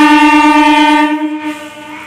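A train at a railway crossing sounds a loud, sustained tonal horn blast for about a second, then the tone fades and drops away into quieter background.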